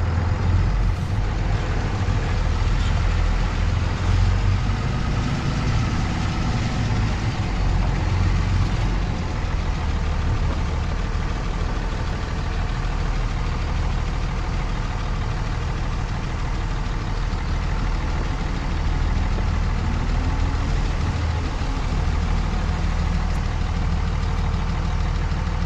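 A 2003 Dodge Ram 2500 with an NP271D transfer case runs in four-wheel drive low, its engine giving a steady, even drone with rumbling low tones. The sound stays constant and close throughout, with no speech.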